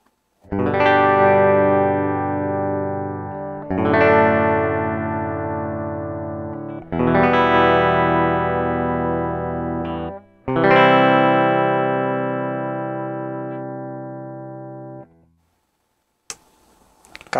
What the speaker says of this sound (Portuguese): A gente vai fazer o som completamente limpo. Vamos começar no captador só da ponte.